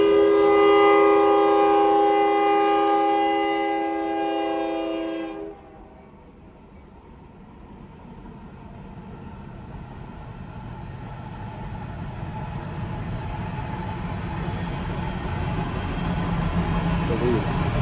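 A train sounds its loud horn in a long sustained blast for about five seconds, then rumbles and clatters steadily along the railroad track right beside a house, the roar building again toward the end.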